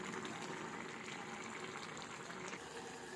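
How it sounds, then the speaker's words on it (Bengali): Puti fish curry cooking in a pan, a steady dense bubbling and sizzling simmer that holds evenly throughout at moderate, close-up volume. "এই যে দেখতে পাচ্ছেন মাছটা এখন ফুটে ফুটে উঠেছে"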